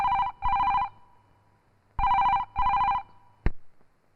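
A telephone rings in two double bursts, loud and close, with a short gap between them and a brief click at the end, and no voices.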